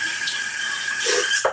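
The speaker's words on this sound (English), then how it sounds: "Get a glass of water." A tap runs as a glass is filled with water, a short, close, steady splash and hiss that shifts in tone near the end.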